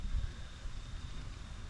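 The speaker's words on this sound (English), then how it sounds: "it's getting windy and the storm's brewing up" Wind blows steadily outdoors as a storm brews around a square drop camper under construction, a faint, low rumbling rush with soft gusts and no voices.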